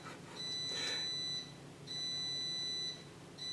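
A home smoke alarm goes off while bread bakes in the oven, giving three loud, piercing electronic beeps at an even pace with short gaps between them and no talking.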